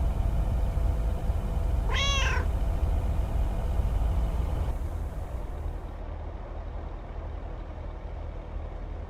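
A single cat meows once in the game LAKE, a short rising-falling call over a steady low rumbling background hum that later drops slightly in level.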